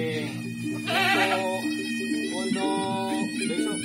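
A goat bleats during bathing, giving one drawn-out wavering bleat followed by shorter ones, close and fairly clear against a quiet background.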